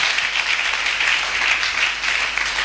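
A church congregation breaks into steady, dense applause, with clapping sustained and fairly loud for a few seconds and no speech over it.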